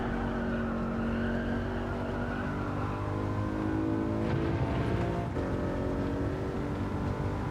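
A race car in Gran Turismo 7 slides through a corner during a licence test, its engine holding a loud steady drone with a faint tyre scrub layered in, and no talking.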